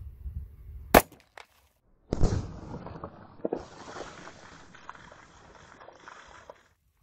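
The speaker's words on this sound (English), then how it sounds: "second shot here with the second variation of the bone barrier jugs test." An Underwood .45 ACP +P hardcast pistol round fires once into water jugs with a sharp, loud crack, then after a short pause water splashes and spills for several seconds.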